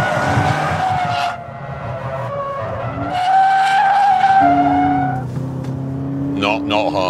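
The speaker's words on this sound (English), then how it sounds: "How hard is it to slide this thing at 80 miles an hour the wrong way around the" A Toyota GT86 slides sideways at about 80 mph, its tyres skidding in a loud, sustained squeal that rises and shifts in pitch over the engine as the drift is held close by.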